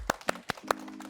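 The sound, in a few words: audience applause welcoming a tenor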